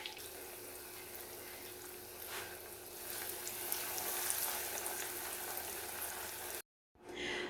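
Catfish fillets fry in hot oil with a steady, even sizzle and hiss that briefly cuts out just before the end.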